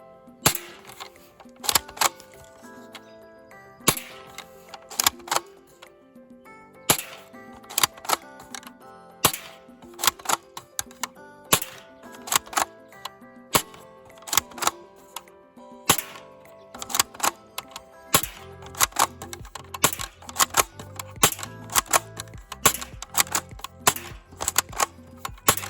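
A Crosman M14 airsoft rifle firing, sharp snapping shots in irregular bursts and single rounds at close range, loud and alone, with mechanical clicks between shots.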